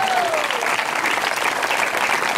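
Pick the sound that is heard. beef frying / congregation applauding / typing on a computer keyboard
congregation applauding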